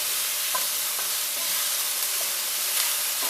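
Onions and other ingredients sauté in a hot pan for Creole pork chops with NOLA red gravy, a steady, loud, close sizzle with faint stirring scrapes, and no one speaking.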